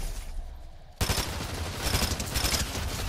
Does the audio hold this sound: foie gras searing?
no